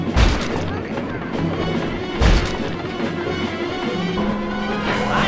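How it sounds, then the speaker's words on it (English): Bombs dropped from a remote-control chopper in the video game Sly 2 burst with heavy booms near the start and again around two seconds, over a busy, continuous game soundtrack. "The X button drops bombs and the square button shoots forward."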